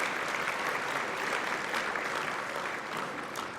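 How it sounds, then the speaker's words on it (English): At a college convocation ceremony, the crowd claps for graduates of a plumbing techniques program, a steady, moderately distant round of many hands in a large hall with no voices over it. "please give a round of applause for the graduates from the Plumbing Techniques program"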